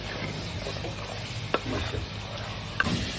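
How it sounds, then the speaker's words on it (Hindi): Boneless chicken for a handi fries in a pot, a steady close sizzle with stirring scrapes and a couple of sharp utensil clicks. "इसको हम 7 से 8 मिनट तक इसकी भुनाई कर लेंगे"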